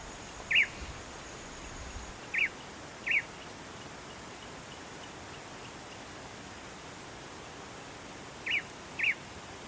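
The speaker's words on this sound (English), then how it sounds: "This is the eared pygmy tyrant. It is a tiny bird" A tiny eared pygmy tyrant gives a few short, high chips spaced apart, clear over a steady hiss of Atlantic forest background, with nothing else much happening.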